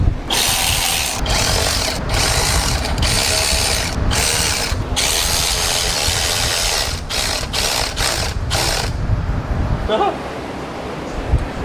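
A ratchet clicks in repeated bursts while tightening bolts on a 1981 Trans Am, close and loud over a steady workshop hum, with brief pauses between runs.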